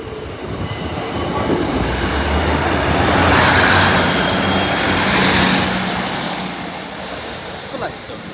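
Locomotive 56473 passing over Brayford level crossing, a broad continuous rumble with rolling wheel and rail noise that swells to a peak midway and slowly eases, steady and fairly loud throughout.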